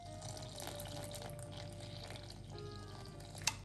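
Room-temperature tap water pours steadily into a bowl of pizza dough ingredients for garlic bread pizza, a continuous close splashing stream lasting a few seconds and ending with a brief clink, with no talking.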